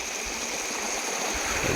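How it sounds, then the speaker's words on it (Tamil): Water rushes steadily along a forest stream, a continuous, moderately loud hiss and gurgle heard close by with no voices. "தண்ணி சும்மா ஜம்முன்னு போகுது போ"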